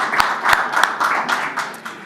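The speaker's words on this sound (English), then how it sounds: "he deserves that applause" Scattered hand claps at the Delphi Forum for the Bulgarian energy minister, a few sharp, close claps standing out over a thin, steady patter for about two seconds.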